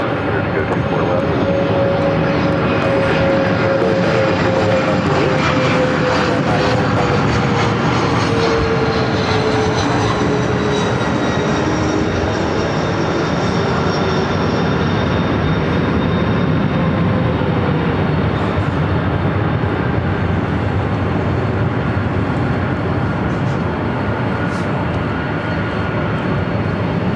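A jet airliner takes off from runway 24 left at LAX, its engines giving a loud, steady roar that holds for the whole stretch, with a slowly shifting whine riding over the rumble.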